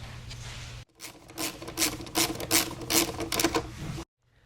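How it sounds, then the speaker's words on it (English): A 13mm socket and ratchet loosen the wiper arm nut on a Land Rover Discovery Series II, giving a close, steady run of quick ratcheting clicks for about three seconds, framed by quiet. "with a 13mm socket you're going to take out the nut out of both the wipers"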